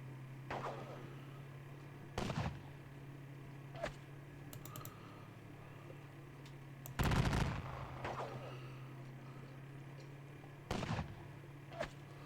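Musket volleys and artillery fire in a Battle of Waterloo and Wavre computer wargame, several separate booming reports spaced seconds apart, moderately loud, with a faint hum between them.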